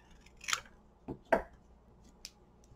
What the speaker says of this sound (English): then I cut the black one in half